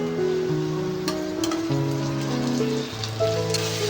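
Ginger-garlic paste sizzles in a pan of frying onions, a continuous close crackling hiss like rain on a surface, steady throughout with faint tonal hum underneath.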